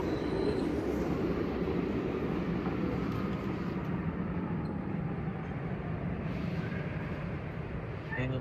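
A metro train in Porto, Portugal runs steadily with a continuous low rumble and rolling rattle, loud and close throughout, with no talking.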